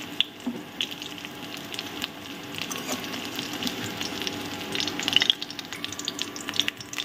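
Gravy sizzling in a frying pan after cabbage was fried, a steady crackling hiss with occasional stirring scrapes and watery bubbling, close and moderately loud.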